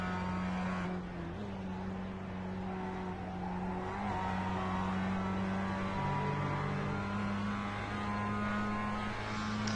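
A Mazda MX-5 race car with a nearly stock engine runs in a sim racing touring car championship. Its steady engine drone holds across the clip and rises in pitch briefly as it accelerates and shifts, with no speech.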